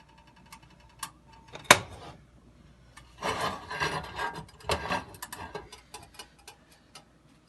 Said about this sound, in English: I'm going to be grinding it in my spice grinder, in my mortar and pestle